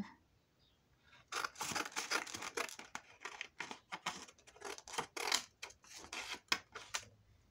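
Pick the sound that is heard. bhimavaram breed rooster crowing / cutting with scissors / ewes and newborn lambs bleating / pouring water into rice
cutting with scissors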